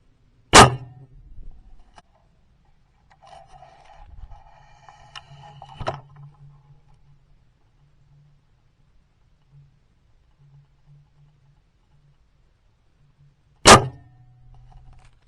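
A bow carrying a Tactacam 5.0 camera shoots arrows outdoors: two sharp, loud releases about thirteen seconds apart, with faint rustling and handling noise in the quiet between them.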